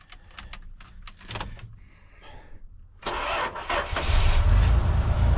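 A 1987 Dodge Dakota truck engine cranks and fires up after a few seconds of clicks and starter whir, then settles into a loud, rough running roar close by.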